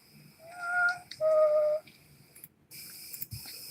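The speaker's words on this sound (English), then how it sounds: "Was it a whistle? Dude, heard a whistle." Two short whistled tones, one after another, clear against a quiet woodland background with faint rustling.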